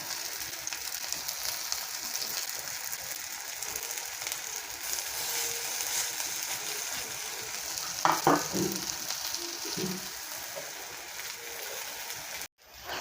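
Pieces of banana stem (kolar thur) frying in a pan, giving a steady broadband sizzle throughout, with a few louder clatters and stirs midway and a brief dropout near the end.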